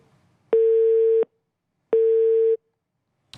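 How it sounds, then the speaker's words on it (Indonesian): Telephone busy signal after a dropped call connection: two long steady tone bursts separated by silence, clear and fairly loud with nothing else heard. "Tampaknya sambungan kami untuk kepada Kasih Opsar Padang Henry untuk memperbarui informasi terputus."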